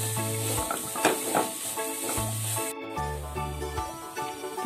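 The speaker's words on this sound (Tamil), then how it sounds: "இப்ப பாருங்க நம்ம தேங்காய் துருவல் எல்லாம் நல்லா வதக்கியாச்சு." Grated coconut sautéed in a pan for carrot ladoo, a soft continuous sizzle with a utensil stirring and scraping against the pan, close and steady with no talk.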